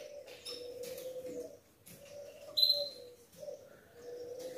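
Female canaries kept in a cage give faint, scattered chirps and calls, with one sharper, louder chirp partway through over a low steady background tone.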